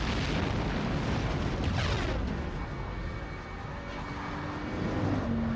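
The Pearl Harbor opening of the video game Medal of Honor: Rising Sun, with a thick roar of aircraft engines, rumbling explosions and a swelling plane flyover filling the whole scene at a steady, distant-to-near intensity.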